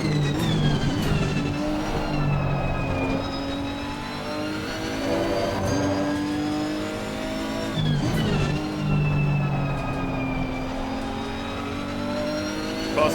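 Nissan GT-R GT3 race car engine revving and shifting through gears at Zolder in Assetto Corsa Competizione, a loud, steady, close engine drone with rising and falling pitch and occasional brief tire squeal, no speech.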